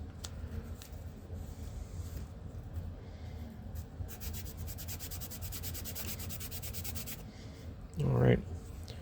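Repeated scratchy strokes of a Rabid Models edge sander block rub along a model's edge, speeding into quick short strokes, then a brief low thump near the end.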